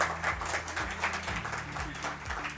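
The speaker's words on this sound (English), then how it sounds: "So clap for yourself as well." Audience at an agile conference applauds together: a steady wash of many hands clapping throughout, dense and fairly even, heard from within the room.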